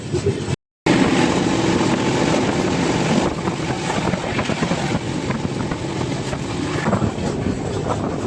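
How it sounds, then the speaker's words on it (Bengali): The Visakhapatnam to Chennai train rushes past at speed, a loud, steady rumbling roar with wind noise, briefly cut near the start and then continuing without pause. "বিশাখাপট্টনম টু চেন্নাই যে ট্রেন সেটি এখন ছুটে চলে যাচ্ছে দ্রুত গতিতে তার নিজস্ব গন্তব্যস্থলে"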